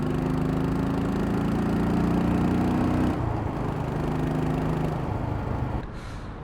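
A motorcycle engine pulls steadily in fourth gear at moderate revs, a droning buzzy hum with a pitch shift partway through, then easing off near the end, no speech over it.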